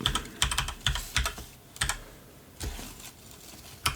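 Computer keyboard typing as a VLOOKUP spreadsheet formula is entered, with short clusters of crisp key clicks separated by brief pauses, close and moderately quiet.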